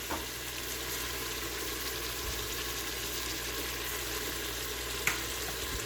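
Chicken frying steadily in a pan for a white karahi, a continuous close sizzle with faint crackles and one sharp pop near the end, no voices.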